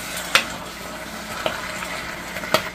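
Marinated chicken for adobo sizzles steadily in a hot pan. A few sharp scraping stirs punctuate the frying, and the sound stays close with no talking.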